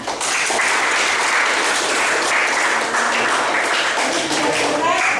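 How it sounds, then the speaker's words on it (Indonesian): An audience claps together at a school outreach session, giving dense, even applause that stays loud and close for the whole stretch with no pauses. "ini tepuk tangan buat kita semuanya"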